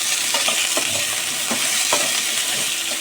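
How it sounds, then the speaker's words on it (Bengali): Four diced potatoes fry in oil in a wok with a little salt, a steady close sizzle running throughout while a utensil stirs them in scattered scraping knocks. "এরম ডুমো করে 4টে আলু কেটে নিয়েছি, ভেজে নেব"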